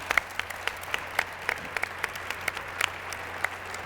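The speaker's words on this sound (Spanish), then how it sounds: "el aplauso" An audience claps in brief scattered bursts of applause at a Spanish-language quiz show, moderate and steady with no voices over it.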